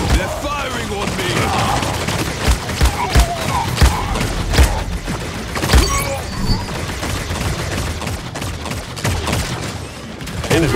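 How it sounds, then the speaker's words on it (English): Rapid bursts of gunfire and sharp impacts in the hero shooter Paladins, loud and close, firing in clustered volleys with thuds between, while in-game voice lines chatter over the action. "They're firing on me"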